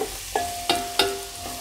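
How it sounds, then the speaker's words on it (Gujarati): Spices stirred into hot oil in a pan over low heat, with garlic, ginger and chili already added, for a stuffed raw tomato curry; three or four distinct spoon scrapes ring out over a soft, steady sizzle, close and alone. "એને આપણે તેલમાં આ રીતે મિક્સ કરી લઈશું."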